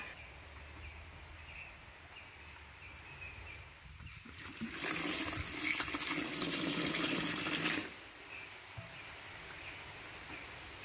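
Water splashes and trickles steadily as it is poured onto shadu clay to soak it, swelling into a louder, fuller pour for a few seconds before easing back to a quieter dribble.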